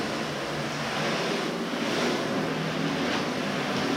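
Water rushes steadily over a metal panel in a thorough rinse, a continuous broad hiss and spatter that stays loud and even throughout with no talking.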